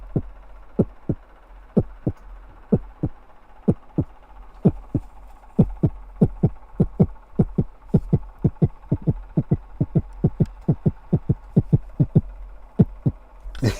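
A person imitates a heartbeat with the mouth, producing steady low thumping pulses, often in double beats, that repeat evenly for about fourteen seconds with no other sound.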